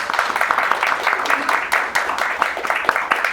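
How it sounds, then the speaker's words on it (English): An audience at a 2016 Delaware progressive Democrats panel on school reform claps steadily in a dense round of applause, with a few voices murmuring underneath. "let's give our panel a round of applause"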